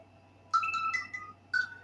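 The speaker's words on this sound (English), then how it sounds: "that's my phone ringing in the background" A phone ringtone plays a quick melodic trill of chiming notes, then repeats a second later, moderately loud over a low background hum.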